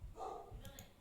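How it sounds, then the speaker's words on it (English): Dogs bark faintly in the background of a home setting, a few soft, muffled yips that come through under low room noise. "You also hear dogs in the background."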